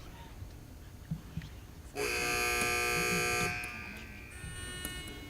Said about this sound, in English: wait for the buzzer if you'd like to answer